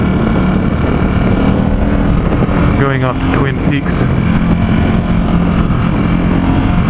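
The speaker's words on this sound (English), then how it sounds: "That stock exhaust just sounds really good." A 2017 Ducati Supersport S motorcycle with its stock exhaust, a loud, steady engine drone heard from the rider's position while riding in San Francisco, with a brief rising rev in the middle and a voice talking over it.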